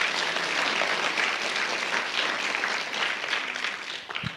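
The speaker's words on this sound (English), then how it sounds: "So let's give them a round of applause too." Audience applause at a city council candidates debate, a dense, steady roar of many hands clapping that fades slightly near the end, with no voices over it.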